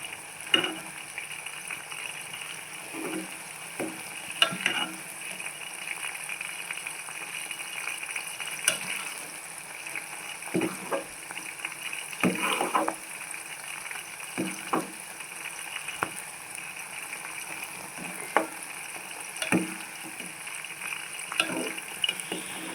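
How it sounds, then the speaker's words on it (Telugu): Gongura leaves fry in a pan for pickle with a steady, soft sizzle, broken by occasional scrapes and stirring knocks; no one speaks. "ఇలా ఆకులు కలర్ చేంజ్ అయ్యేంత వరకు ఫ్రై చేసుకోవాలండి."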